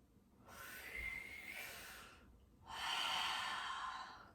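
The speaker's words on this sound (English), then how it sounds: "Breathe in" Deep breaths during a yoga flow: one long inhale, a short pause, then a second stronger breath, close and breathy with no talking.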